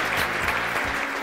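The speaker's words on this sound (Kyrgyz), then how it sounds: "Кол чабуулар" Studio audience at a Kyrgyz TV game show breaking into a short, dense burst of applause, full and close, with no talk over it.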